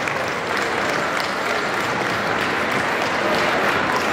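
Steady applause from an audience at a Swiss mountain dog breed demonstration at a pet expo, sustained and fairly loud throughout with no talk.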